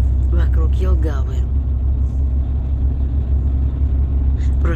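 A car drives along a ring road around the outskirts of Jelgava, Latvia, its low engine and road rumble steady throughout while someone talks over it.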